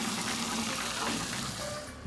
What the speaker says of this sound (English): Fill your buckets with water.